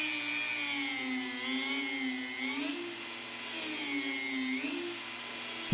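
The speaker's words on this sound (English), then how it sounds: "use the Dremel to get in tight" A Dremel rotary tool grinds and shapes an epoxy crow, its high whine rising and dipping in pitch across two long passes as the bit loads up and frees, close and continuous.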